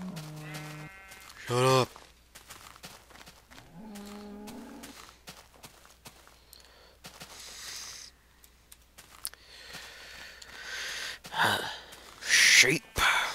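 Sheep in Minecraft bleat in two short, harmonic calls near the start, followed by scattered game sounds and a voice talking over the scene.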